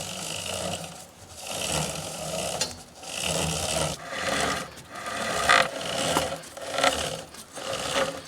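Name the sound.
scrubbing crud off a chain drive sprocket spun by hand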